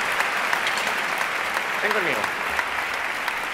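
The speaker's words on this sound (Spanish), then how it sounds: "Que suene más ese aplauso, hombre." A concert audience applauds in a steady, dense wash of clapping throughout, with a voice speaking briefly midway over it.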